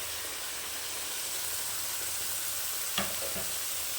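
Mutton sizzling and frying in a pan, a steady dense hiss throughout with a couple of brief stirring scrapes near the end, close up and without talk.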